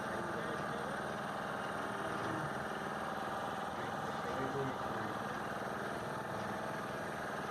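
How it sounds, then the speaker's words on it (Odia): Motorboat engine on Chilika lake, a continuous steady drone with a low rumble and vibration, fairly faint and even throughout with no breaks. "ଆମେ ଏ ଡଙ୍ଗାରେ ଯାଉଛୁ।"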